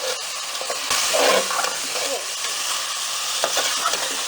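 Chopped onions and finely cut tomatoes fry in a pan for a chicken white karahi, giving a steady broadband sizzle with a few stirring scrapes and clinks, close and continuous, with no talking.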